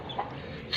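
Game farm chickens cluck briefly and softly at close range in a short burst of farmyard sound.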